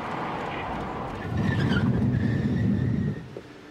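A car drives past on a road, its engine and tire noise rising to a close, steady whoosh for a couple of seconds and then quickly fading away, with no talking.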